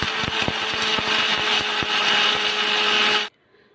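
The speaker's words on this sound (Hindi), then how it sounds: "साथ ही मैं इसमें डालूँगी कच्ची हल्दी, ये छठ में चढ़ती है कच्ची हल्दी, अदरक ये वही वाली है, और एक टमाटर डालकर इसे मैं महीन पीस लूँगी" A kitchen mixer grinder whirs steadily as it grinds raw turmeric, ginger and tomato into a fine masala, a loud, dense motor roar with rattling knocks that cuts off abruptly near the end, with no talking.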